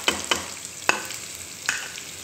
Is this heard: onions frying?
yes